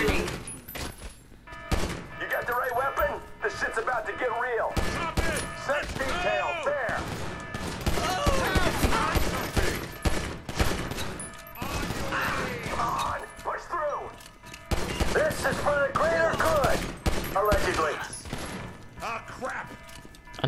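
Rapid bursts of gunfire from the game GTA 5 crackle in dense volleys, with sharp shots and crashes coming in clusters and brief pauses, mixed with voices throughout.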